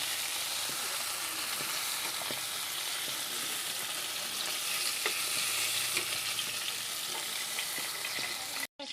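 Cauliflower florets fry in hot oil for a potato-cauliflower dalna, a dense, even sizzle that fills the space without pause before stopping abruptly at the end.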